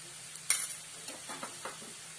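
Onion with turmeric and coriander powder fries in a pan for a dry potato bhaji, a faint soft sizzle broken by a few light scrapes and clinks of stirring.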